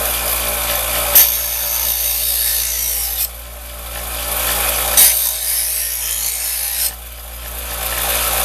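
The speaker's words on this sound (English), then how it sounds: "You let the machine do the work. You just pull through. Magnets hold it. And that rehones the blade real nice." Blade pulled steadily through a Chef's Choice electric knife sharpener, a loud grinding rasp over the motor's steady hum, two long strokes each lasting about two seconds.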